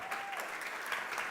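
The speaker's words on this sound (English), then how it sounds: "More applause for Dr. Mazafarian, please." A short burst of steady clapping from a crowd, continuous and even throughout.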